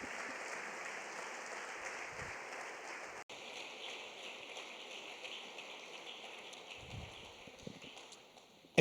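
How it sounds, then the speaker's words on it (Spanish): Applause from a church congregation, a steady wash of many hands clapping at moderate distance, continuing throughout without speech. "Vamos a darle un fuerte aplauso al Señor."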